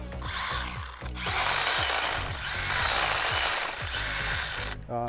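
A small STIHL GTA26 battery chainsaw whines steadily, its pitch sagging and recovering in repeated dips as it bites into wood branches, loud and close, with no talking.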